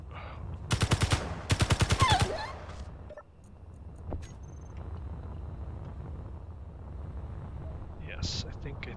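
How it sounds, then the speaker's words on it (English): Gunfire in the video game Space Engineers, planetary survival mode: two loud, rapid automatic bursts up front, each a quick chain of sharp shots, followed by a lower rumble of game ambience and a few thin mechanical sounds. "Excuse me while I go shoot something again."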